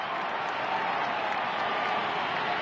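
An Italian crowd applauds Wilson's victory tour with a dense, even wash of clapping, sustained and fairly loud with no individual voices standing out.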